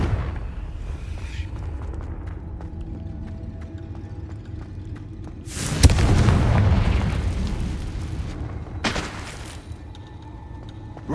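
Confringo blasting-spell explosions from Hogwarts Legacy burst out over a low rumbling game soundscape, one broad booming blast followed a few seconds later by a second sharp burst.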